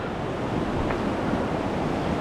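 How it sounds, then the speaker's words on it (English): Rapids on the Youghiogheny River at Railroad Rapids in Ohiopyle State Park, heard from the shoreline at a flow of about 6.5 feet, a dense, steady roar of rushing water with no break or talk. "we're here at the Railroad Rapids, Ohiopyle State Park, Youghiogheny River."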